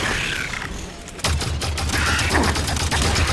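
Rapid bursts of gunfire in the Halo 5 Guardians game, loud and dense after a quieter opening, with battle noise and a shouted voice over it.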